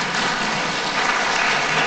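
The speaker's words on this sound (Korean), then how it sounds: "여성분들이 박수 한번 쳐줄까요?" Women in a Catholic parish congregation applaud the men, a continuous even wash of clapping hands, fairly loud and close, with no voices over it.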